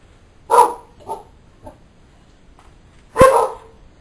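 Dogs at a house in Taal, Philippines give a few scattered barks and yips: a sharp bark, two softer ones, a short pause, then one loud close bark.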